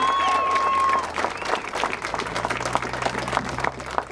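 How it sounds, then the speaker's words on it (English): Sustained applause from a crowd at a rally for a new police district, steady clapping that gradually thins out, with a faint tone at the start. "let's give Marty and Silvana, Mike and Angie a great big round of applause"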